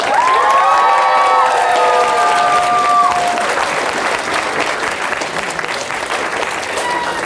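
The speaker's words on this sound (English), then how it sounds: "Can I please get a last round of applause for these folks?" Large convention crowd applauding, dense sustained clapping with some cheering and shouts, loud and close, lasting several seconds without a break.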